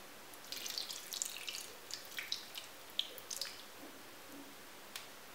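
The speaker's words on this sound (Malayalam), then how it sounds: "നമുക്കിതിലേക്ക് കുറച്ച് വെള്ളം ഒഴിക്കാം." Water poured into a pan of coconut oil and curry leaves while cooking Kerala koorka mezhukkupuratti, heard as faint, close, scattered splashes and drips over a quiet background, with no talk.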